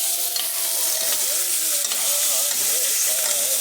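Coconut aval upma, flattened rice, being stirred and fried in a hot pan, a steady close sizzle with scraping stir strokes throughout, no voices.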